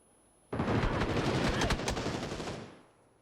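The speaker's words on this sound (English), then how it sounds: "Some great shots from Besto Luxo" Game gunfire in PUBG on the snowy Vikendi map erupts as a dense, loud two-second burst of rapid shots that trails off quickly, with no talking over it.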